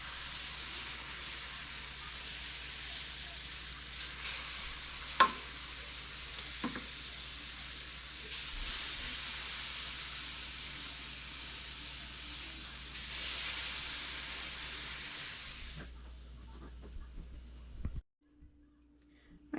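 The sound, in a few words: banana pancake batter sizzling on a greased grill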